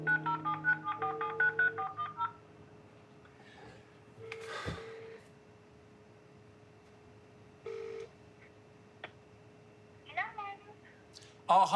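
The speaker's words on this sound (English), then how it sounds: "now has to make a heartbreaking phone call" A telephone is dialed for a call, a quick run of keypad tones at the start. A faint steady line tone follows, with breaths and brief low voices in between.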